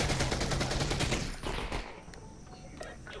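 Rapid gunfire from a shotgun in the VR game Half-Life: Alyx, a loud dense burst of repeated shots for over a second that then breaks off into a few scattered lighter impacts.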